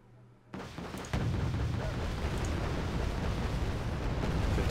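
A T-80UM tank is destroyed in the Wargame Red Dragon video game: a sudden explosive blast is followed by a heavy, sustained rumbling roar that stays loud to the end.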